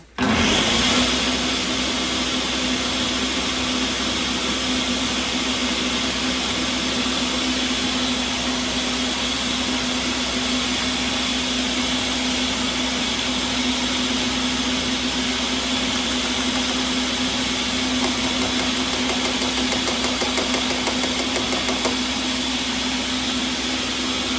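A blender runs continuously on a batch of homemade vegan soup with tomatoes, a loud, steady motor whine with a constant pitched hum, close up and unbroken for the whole stretch.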